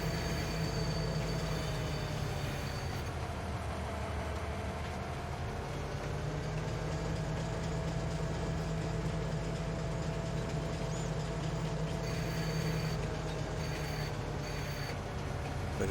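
A train runs steadily in Farming Simulator 22, a continuous rumbling drone with a sustained low hum and faint tonal whine throughout, with no talking.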